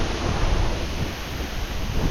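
Water pours down as a waterfall inside Tham Nang Aen cave in Laos, making a dense, continuous rushing roar close by. The sound stays steady and unbroken, and no voices are heard.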